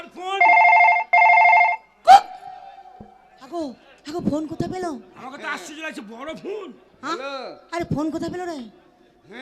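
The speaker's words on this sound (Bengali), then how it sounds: "এই ফোন মারছে ফোন ফোন ফোন আর ফোন" An old-style telephone bell rings in two long, loud bursts at the start during a Bengali comedy skit, followed by people talking and chuckling.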